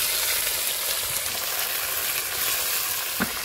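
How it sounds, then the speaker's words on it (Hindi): Chicken pieces sizzle steadily in hot oil with chopped garlic and ginger while being fried for biryani, a close, continuous crackling fry with occasional stirring clinks. "चिकन को अच्छी तरह फ्राई कर लेंगे।"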